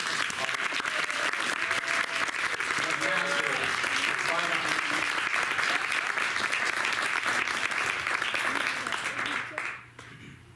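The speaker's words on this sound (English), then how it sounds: "Let's have another round of applause for all" An audience applauds a graduating MFA cohort at a final thesis reading with a dense, sustained wash of clapping that holds steady for about ten seconds before cutting off.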